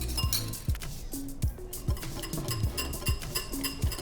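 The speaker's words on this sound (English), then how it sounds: "And we'll give this a whisk." A whisk clinks against a bowl while mixing a garlic, ginger and peanut vinaigrette, giving a steady run of sharp, close taps about twice a second.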